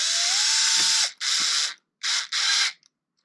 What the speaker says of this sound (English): I don't like to go crazy with the drill